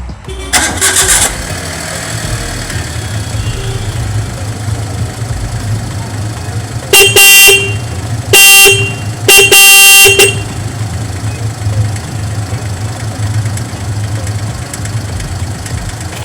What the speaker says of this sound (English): let's now tune up the horn and let's see how much it sounds